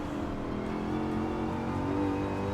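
A race car engine in Gran Turismo 7 drones steadily at high revs, a continuous loud buzzing tone with slight pitch shifts and no pauses.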